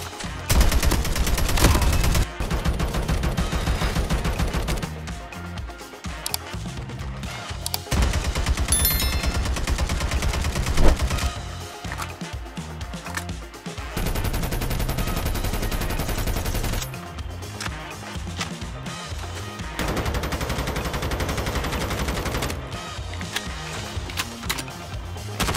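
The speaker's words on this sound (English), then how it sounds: "Weapon bullet sounds." Gunfire from weapons in Call of Duty Mobile, a dense stream of rapid automatic bursts in several blocks separated by short gaps, loud and close with no voices.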